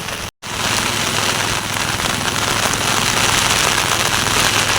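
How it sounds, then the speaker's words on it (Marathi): Heavy monsoon rain pours down on rice fields in Devgad, Sindhudurg, a dense, loud hiss that stays constant after a brief break near the start. "पाऊस काय जोरदार पडता बघा"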